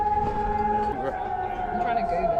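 Civil defense siren wailing in Prague, a sustained steady tone from a distance with a slow downward drift in pitch, while people talk nearby.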